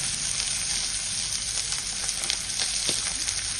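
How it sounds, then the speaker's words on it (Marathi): Finely chopped onion sizzles in hot oil on a wood-fired stove, a close, steady bright crackle with small pops and faint stirring. "बारीक कट केलेला कांदा पण घातला."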